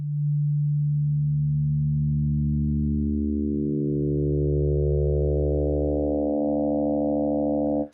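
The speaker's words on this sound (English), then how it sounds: "this one sine wave is modulating the other sine wave" A steady synthesized sine tone from Bitwig's Phase-4 synth whose timbre shifts as a second sine modulates it, adding stepped harmonics and a richer buzzing texture.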